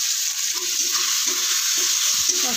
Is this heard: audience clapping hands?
no